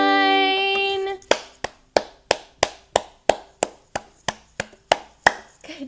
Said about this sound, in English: Clap your hands like mine.